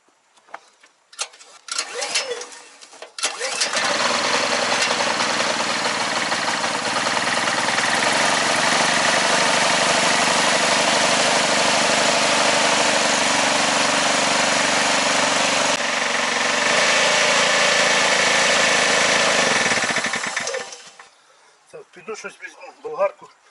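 A VOIN petrol inverter generator that had trouble starting fires up and runs with a steady, loud buzzing engine drone for about seventeen seconds, then cuts out, with brief handling noises before and after.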